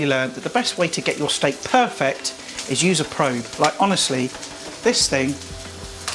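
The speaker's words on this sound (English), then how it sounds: "Should hear it sizzle." Rib-eye steak sizzles in a hot pan with a steady frying hiss, running beneath continuous close talking.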